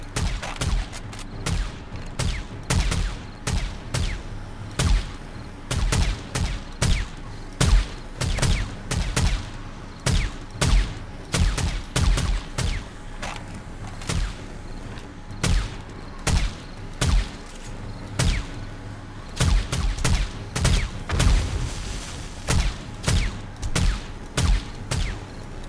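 Rapid gunfire in the 7 Days To Die video game during a zombie horde night, with dense repeated shots in quick bursts, loud and close, fired steadily and continuously with only brief pauses between strings of shots.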